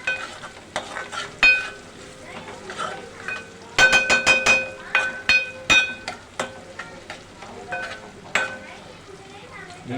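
Moong dal tipped into a pan of fried tempering sets off sizzling, followed by repeated metal spoon stirs and scrapes against the pan, clattering in uneven bursts while a voice talks over it.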